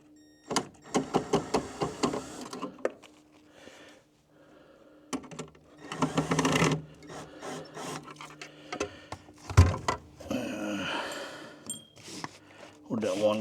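Small screws are worked loose from a panel on a 1951 Ford shoebox during an air conditioning installation, with short scraping and rasping bursts separated by pauses, close up, plus a sharp knock partway through.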